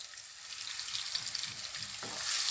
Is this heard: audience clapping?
no